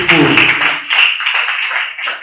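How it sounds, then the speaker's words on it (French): A church congregation claps in praise of Jesus during a sermon, a dense burst of hand claps that thins out, with voices mixed in underneath. "Applaudis pour Jésus."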